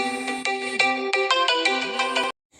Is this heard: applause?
no